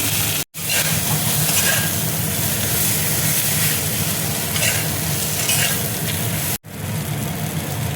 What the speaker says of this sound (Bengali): এবার আমি আলুর স্টাফিংটা দেখো দিয়ে দিচ্ছি